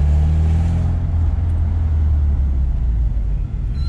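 A 1989 Toyota Corona GLi 2.0 with a manual gearbox idles and putters along slowly, its engine a steady low rumble close by with a faint rev near the start, with no voices over it.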